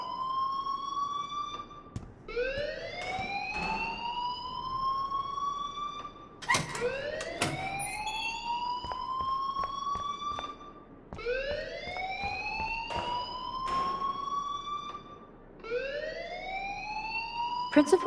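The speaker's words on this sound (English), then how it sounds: "please turn off that alarm since that's your job" A school fire alarm in the game Life is Strange wails in repeated rising sweeps, loud and continuous, while people talk beneath it.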